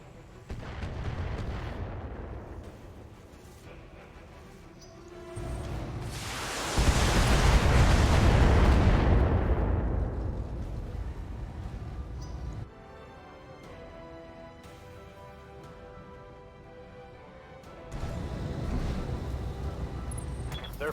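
Artillery pounding a base in the BattleTech game, heavy booming barrages with a long roaring rumble in the middle, interspersed with game sounds and radio chatter.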